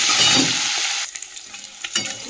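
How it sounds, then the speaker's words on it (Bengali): Prawns fry in hot oil in a wok, a loud, dense sizzle filling the first second before dropping to a quieter crackle with a few sharp spits and pops. "চিংড়ি মাছটা ভেজে নিই।"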